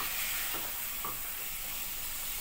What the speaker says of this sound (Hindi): इसको फ्राई जब तक हम करेंगे जब तक ये पानी सूख ना हो जाए